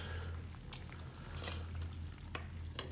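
Filipino breakfast fillings, tosilog and longsilog meats, frying in a pan with a steady low crackle and occasional stirring clinks of a utensil, close and moderately quiet.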